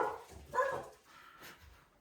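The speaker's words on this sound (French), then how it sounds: "La porte s'est ouverte, du coup Raph s'est mis à aboyer." A dog barks indoors right after a door opens, giving two or three short, fairly faint woofs spaced apart, with no one talking.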